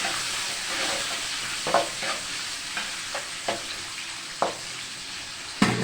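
Chopped onions and curry leaves sautéing in oil in a pan, a steady close sizzle with a series of distinct scraping stir strokes spread through, ending on a sharper clack, no talk.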